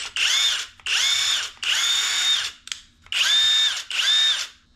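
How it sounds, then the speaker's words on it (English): A SeeSii WH700 cordless impact wrench whirs through five loud, close bursts of a few seconds each, its high motor whine rising and falling, with short pauses between them. "This is the SeeSii cordless impact wrench WH700"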